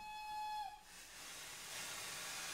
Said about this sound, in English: Do a toot of the whistle.